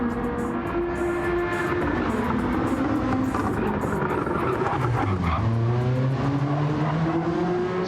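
Race cars lapping the Laguna Seca circuit in a racing video game: loud, steady engine drones from several cars overlap, their pitch rising and falling through gear changes and corners, with no voices.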